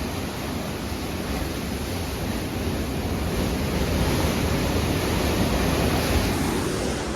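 Water rushes steadily through the six gates of a temple, a dense, continuous roar that holds at a constant level throughout with no voices.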